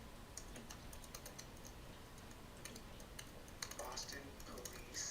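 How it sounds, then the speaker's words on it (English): Rapid, soft clicking of typing on a computer keyboard, fairly quiet and irregular, with brief bursts of keystrokes and faint talk in the background. "More typing."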